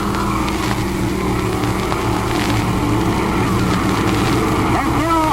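A field of race cars at Stateline Speedway thunders off at the start of the feature race, a dense, loud wall of engine roar throughout, with an announcer talking over it.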